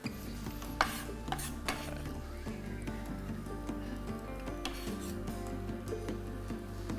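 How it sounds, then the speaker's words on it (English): A spoon clinks and scrapes now and then while minced chilli and kidney bean sauce is stirred in a pan, over a low steady hum. A few sharper taps stand out early on. "Let's get this in there, stir that through."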